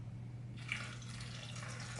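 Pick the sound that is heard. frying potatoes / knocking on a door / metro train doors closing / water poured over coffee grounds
water poured over coffee grounds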